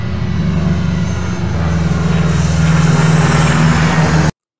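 A loud airplane engine drones steadily and close, a deep continuous roar that swells slightly before cutting off abruptly.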